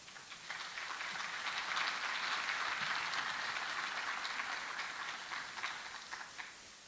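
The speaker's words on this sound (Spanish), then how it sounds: "Un cordial aplauso." An audience at a university lecture applauds with a steady, soft clapping that swells briefly and then fades.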